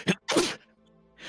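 Two quick sneezes, the second fuller, burst out close and loud amid a tabletop role-playing game session, followed by a short quiet pause and a faint start of another voice.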